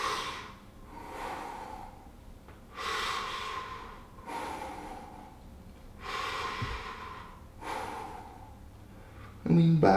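Slow, audible breaths out through the mouth, five or six soft whooshing exhales spaced a couple of seconds apart, quiet and close during a seated stretching exercise.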